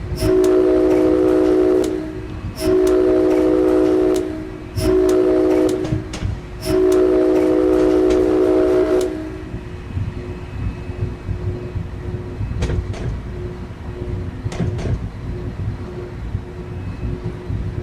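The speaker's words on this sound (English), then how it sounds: "Like, this is an all Bombardier train, engine and passenger cars." An all-Bombardier New Jersey Transit train in the Train Simulator 2019 game sounds its horn in several loud sustained blasts with short gaps, then quieter engine rumble and clanking continue alone.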